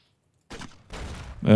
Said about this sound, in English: Let's try a VATS targeted shot there.